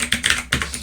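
Typing on the keyboard of a Ruertu E-ink notetaker, close and clear, with a quick uneven run of crisp key clicks and no voices.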